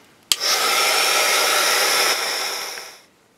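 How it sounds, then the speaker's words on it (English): After a sharp click, a heat gun heat-setting paint blows with a loud, steady whooshing roar close by for about three seconds, then winds down. "And then we're going to heat set it with the gun."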